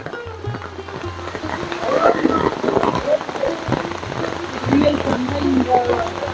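Heavy rain falls steadily at a living root bridge near Mawlynnong village in Meghalaya, a dense, constant hiss of drops close by, with a low hum and faint voices underneath.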